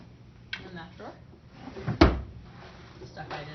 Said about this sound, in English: And then, let's see, these drawers.